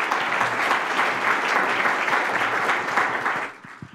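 Conference audience applauding a speaker, a dense steady wash of many hands clapping in a hall that fades out near the end.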